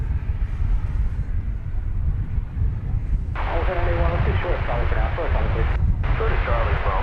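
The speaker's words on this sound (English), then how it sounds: "Small business jet. I don't know how small it is," A Challenger 300 business jet, a 16-year-old corporate plane diverted to DFW Airport, comes in to land with a loud, steady engine roar that swells partway through, while people talk over it.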